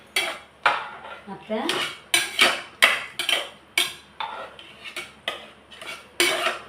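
A spoon mashing curd rice in a bowl gives repeated metallic clinks and scrapes in an uneven, steady rhythm, fairly close and clear, with no talking.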